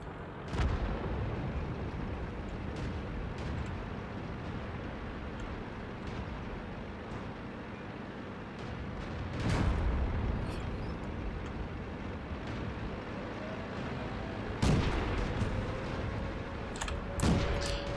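Muffled artillery blasts in a World of Tanks battle land as a few distant booms at spaced intervals over a low steady rumble of engines and ambient battle noise.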